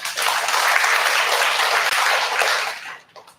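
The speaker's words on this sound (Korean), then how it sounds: "우리의 마음을 담아서 7번 박수해 드립니다" A church congregation at a Sunday service claps together for a newly married couple, producing a dense, loud wash of applause that holds steady for about three seconds before tapering off.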